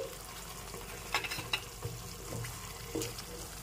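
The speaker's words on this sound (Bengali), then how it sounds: "এবার ভালো করে নেড়ে চেড়ে মিশিয়ে নিচ্ছি" A yogurt and paneer curry with capsicum and tomato, made without onion or garlic, stirred in a pan; a few soft scraping strokes stand out over a quiet, steady background, with no talk.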